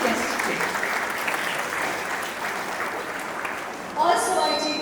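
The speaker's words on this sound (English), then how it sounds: "Can we please hear it with a round of applause for Eliza ma'am and Rebecca ma'am" A school audience at an Independence Day celebration at Sacred Heart School, Siliguri, applauds: dense, even clapping from a large crowd sustained for several seconds, with a brighter surge near the end.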